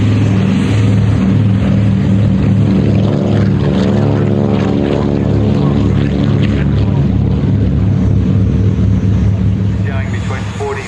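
A P-51 Mustang flying at the Bundy airshow, its piston engine and propeller droning loud and steady with a rich harmonic growl, fading slightly at the end, while an announcer talks over it.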